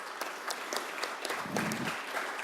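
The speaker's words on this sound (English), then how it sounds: "Let's give a huge round of applause." A crowd gives a civic gathering in Louisville a short burst of applause, dense and even, with a faint voice briefly underneath.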